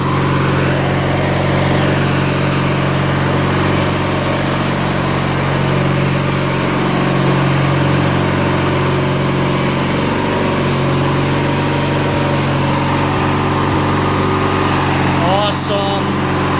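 A Craftsman LT1000 lawn tractor with a 21HP opposed-twin engine and automatic transmission runs steadily while backing up in reverse, its loud continuous engine drone filling the whole stretch with a brief higher whine near the end.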